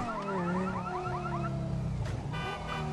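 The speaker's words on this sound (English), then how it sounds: "Obviously, this alarm is going off, and this guy, not even paying attention to this car alarm." A car alarm blares inside Grand Theft Auto V, cycling through rapid warbling, rising chirps and then a steady repeating tone, loud and continuous over a low engine-like rumble for the whole stretch.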